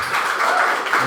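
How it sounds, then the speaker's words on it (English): Audience applause for a panel on removing barriers facing formerly incarcerated people, a steady, dense wash of many hands clapping at moderate loudness through the whole short stretch. "can we get another round of applause for our wonderful panelists"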